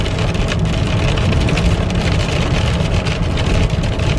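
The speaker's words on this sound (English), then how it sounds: "The rain is coming down." Rain pours steadily onto a moving car, a dense continuous wash of drumming over the low rumble of the engine and road, loud and close throughout with no talk.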